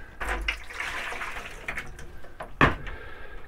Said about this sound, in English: And now I'll hit it with my fixer.